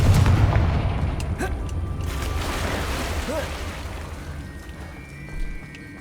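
A fiery Confringo spell explosion booms in the Hogwarts Legacy game, a loud blast that decays into crackling rumble with smaller pops trailing off.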